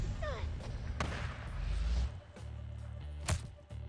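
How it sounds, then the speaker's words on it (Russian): Gunfire in the video game Days Gone: several booming shots and heavy thuds ring out over a dense low rumble, with one sharp louder blast near the end. "А я слышу, там стрельба уже идет впереди."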